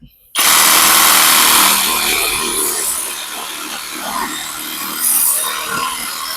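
A Masaru SCSR 445 cordless reciprocating saw with a dulling blade cuts into hardwood, a loud, continuous buzzing rasp starting abruptly and running steadily throughout, close to the listener.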